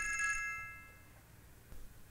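A telephone rings indoors in a home during a comedy drama scene, giving a short electronic ringtone burst of bright chiming tones at the start that quickly fades into quiet room tone, with no talking.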